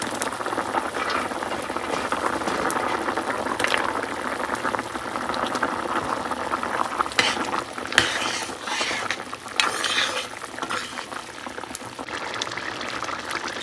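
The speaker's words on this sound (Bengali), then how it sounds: "এখানে সবজি ফুটছে, এর মধ্যে দিয়ে দিলাম বড়ি" Vegetables boil in a pot after lentil dumplings (bori) go in, a continuous bubbling simmer with occasional sharper pops and clinks, moderately close and with no talking.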